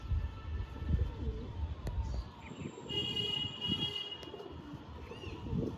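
Domestic pigeons, including a hen, keep up a low burbling coo close by while a distant siren wails faintly in the background and a few sharp clicks break through.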